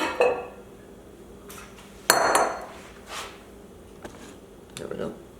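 A kitchen bowl pulled out and set down among dishes, a few sharp clinks and clatters of ceramic and utensils spaced apart, close by in a home kitchen.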